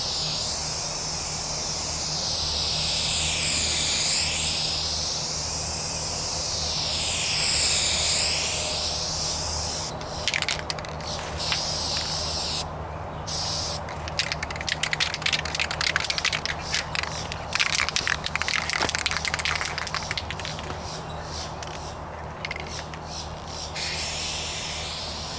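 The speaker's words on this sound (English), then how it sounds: "I'm just following this wet edge." A rattle can sprays a light first coat of Duplicolor paint onto the hood of a 1998 Toyota Corolla, a steady close hiss with short breaks where the nozzle stops and restarts.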